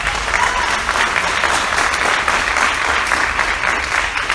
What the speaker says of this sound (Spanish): Fuerte las palmas para Cristo.